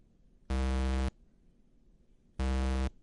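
A synthesizer tone with an instant on-off envelope sounds twice, each buzzy note starting and stopping abruptly with no fade, separated by a short silence.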